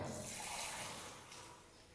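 Water pours into a beaker in a steady, bright splashing stream for about two seconds, fairly close, fading slightly toward the end.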